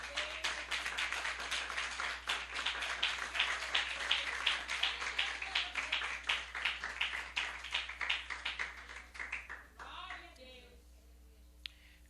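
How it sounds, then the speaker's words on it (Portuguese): A church congregation claps for Jesus during a sermon, a fast, rhythmic burst of many hands that fades out after about ten seconds, leaving only faint background sound. "dá uma salva de palmas para Jesus, rapidamente"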